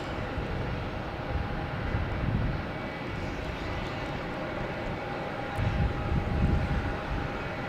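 British Airways airliner at Logan Airport at night, a steady distant jet engine roar rising and falling slightly with no voices.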